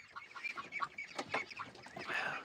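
Ducks quack and chickens cluck together in a close backyard flock beside a log cabin, a busy overlapping run of short calls with no voices.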